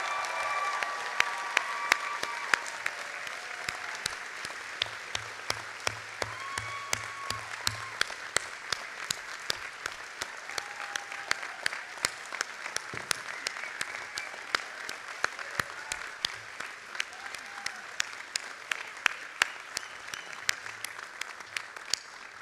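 Sustained audience applause at a School of Medicine commencement ceremony, honouring the staff; steady dense clapping from a large crowd with sharp individual claps standing out, continuing throughout without speech.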